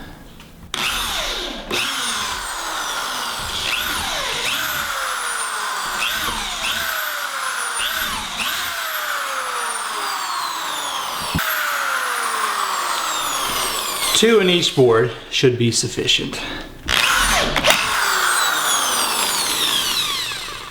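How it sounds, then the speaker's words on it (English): A power drill bores holes through wooden headboard boards for a king-size bed, its motor whining in repeated bursts that rise and fall, with a louder stretch near the end, while a person talks over the work. "So I'm going to come in here and just put some holes in."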